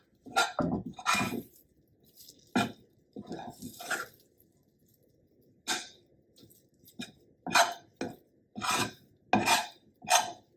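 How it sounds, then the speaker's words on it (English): Hot cooked lentil mixture for tofu tikka masala is scraped and spread into a pan, with intermittent close scraping and rubbing strokes separated by short pauses. "we're going to spread it out into this pan"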